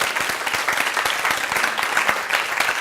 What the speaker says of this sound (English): Can we all give you a big round of applause?